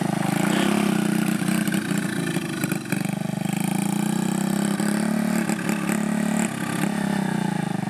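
A cheap used quad bike engine runs steadily close by, a loud continuous drone with slight dips in revs, alone without talk.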